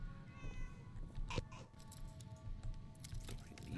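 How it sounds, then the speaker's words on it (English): Cats meow inside the video game Fallout 4, short mewing calls rising over a steady low game hum with faint clicks, fairly soft and close, no talking. "A lot of cats in here."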